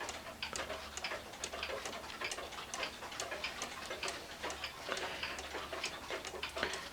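A small one-day hunter cuckoo clock ticks steadily in a quick, even rhythm, close and fairly faint with no voices.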